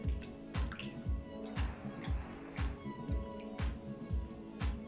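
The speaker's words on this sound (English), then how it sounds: "A little water here." Water drips steadily onto pottery clay during a pottery demo, about a dozen distinct close drops landing in a regular rhythm against a faint background hum.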